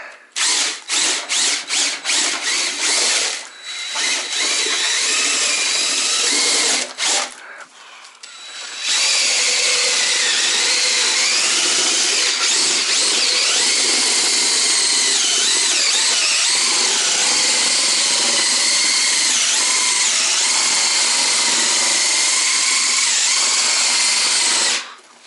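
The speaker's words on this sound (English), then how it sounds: "the old poor DeWalt drill" A DeWalt power drill whirring loudly as it mixes a floor leveling compound, starting in short stuttering bursts, then running steadily for a long stretch.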